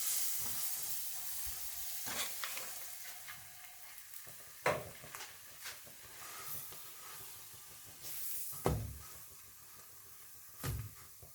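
Bread slices sizzle and fry in melted butter in a frying pan over heat being turned down, a steady close hiss with crackling pops and a few louder spits, with no talking.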